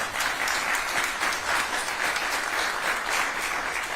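A large audience claps steadily and evenly throughout, a dense wash of applause with no one talking over it.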